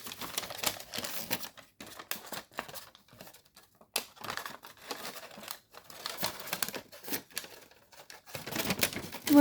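Paper creased and folded into an origami missile-armed jet, with close, irregular crinkling and sharp crisp rustles running throughout, no speech.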